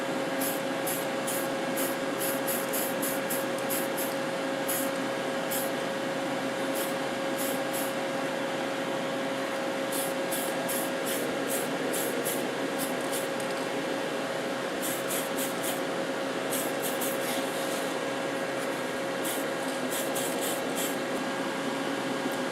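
Airbrush or spray can laying down very light color coats on a Tamiya 1/14 R/C King Hauler truck body: a steady hiss with a constant tone, broken by rapid short repeated bursts of spray, close and alone.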